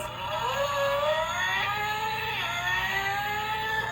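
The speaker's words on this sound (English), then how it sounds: "I got this freewheeling race car that makes noise" A toy freewheeling race car gives off a loud electronic engine-like whine with rising, sweeping tones layered over a steady hum, continuous and close throughout.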